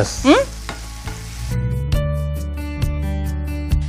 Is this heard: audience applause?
no